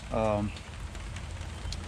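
Steady rain falls outside a parked vehicle during inspection of a hydraulic fluid leak, a soft continuous patter with scattered drops, preceded by a brief voice-like tonal sound near the start.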